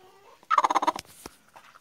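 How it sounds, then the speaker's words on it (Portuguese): Hens cluck near a henhouse, giving a close burst of rapid clucks followed by a few softer scattered clucks, with no talking. "Saindo aqui do galinheiro do lado de fora aqui. Outra galinha aqui chocando aqui."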